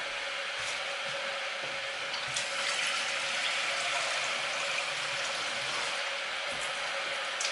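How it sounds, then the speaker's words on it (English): Steady rush of tap water pouring into a saucepan, continuous and fairly even throughout, with no voices. "Again, just fill it with water"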